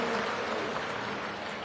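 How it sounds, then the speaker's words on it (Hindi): An audience at a public welcome ceremony in Sehore district claps loudly and steadily to greet an honoured woman guest, a dense, sustained wash of applause with no pauses. "एक बार जोरदार ताली बजाकर हम भाभी मां का भी स्वागत करेंगे।"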